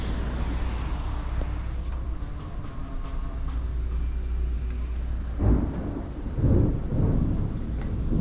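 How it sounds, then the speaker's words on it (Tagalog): Steady rain hiss in Oman with a low rumble of thunder building in the second half, heavy booming rolls rising near the end. "Natakot lang ako lumalabas kasi parang may thunderstorm"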